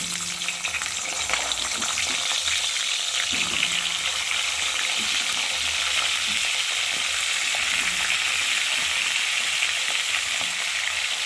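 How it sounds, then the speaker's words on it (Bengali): Cauliflower florets frying in oil in a kadai make a loud, continuous hiss and crackle. A few soft thuds of stirring sound beneath it, and no one speaks. "এখন ফুলকপিগুলোকে ভালো করে লাল লাল করে ভেজে নেব"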